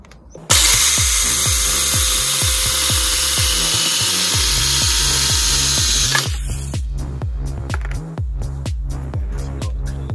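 A power tool cuts material clamped to a ladder during a DIY pellet trap build, a loud continuous motor roar with a rhythmic pulsing beneath it that eases slightly partway through.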